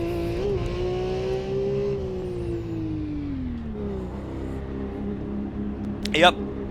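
A Porsche sports car engine holds a steady, loud drone with a gradually falling pitch, then a brief sharp rise near the end, heard continuously with no voices over it.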